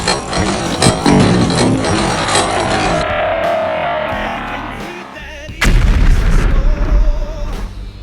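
A bazooka firing and exploding, heard as a sharp blast followed by a booming, rumbling explosion, loud and close, with processed sound-effect character.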